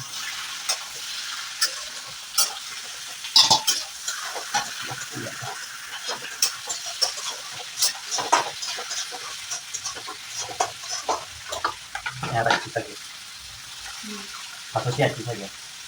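Meat fries in a pan with a continuous sizzle while a spoon repeatedly scrapes and stirs in uneven clattering bursts; water runs briefly and a voice talks over parts of it.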